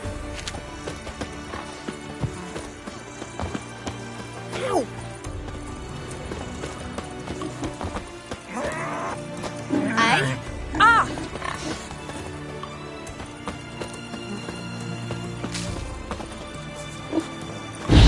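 Roach, a horse in Witcher 3, gallops with rhythmic hoofbeats amid game sounds, music and brief voices, one louder burst midway.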